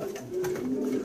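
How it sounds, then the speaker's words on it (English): Pigeons coo steadily in a crowded breeding loft, a low throaty warble rising and falling continuously at close range, with no voices over it. "Got too many birds, Homish."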